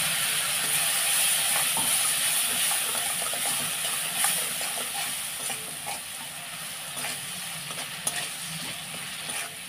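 Ground ginger, cumin and coriander spices cook in a pan after a splash of water goes in, giving a steady loud hiss and sizzle throughout with faint stirring clicks.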